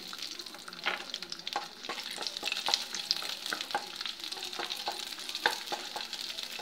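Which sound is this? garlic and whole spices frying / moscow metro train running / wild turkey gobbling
garlic and whole spices frying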